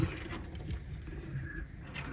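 Royal Teddy pigeons coo in low, soft, repeated throaty murmurs at close range, with faint rustling and background hum, no voices.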